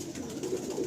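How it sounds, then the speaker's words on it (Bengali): Pigeons in a pigeon loft giving a short, low, throaty coo, close and moderately quiet, over faint background noise. "তো আমাদের দাদা মানে তন্ময় দা, উনি কিছু পায়রা স্যারের ঘর থেকে পছন্দ করেছেন"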